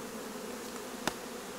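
Buckfast honey bees hum in a dense, steady drone near a moved hive, with a couple of sharp knocks breaking through the constant buzzing.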